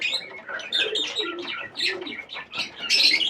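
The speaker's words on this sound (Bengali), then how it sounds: "এই যে আমার দেশি পায়রাও আছে, এই যে দেশি পায়রা" Native deshi pigeons coo and chirp in a close, lively cluster of overlapping calls, rising and falling in short swells over a few seconds.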